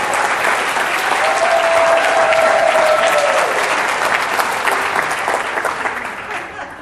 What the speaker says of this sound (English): let's give Candace a round of applause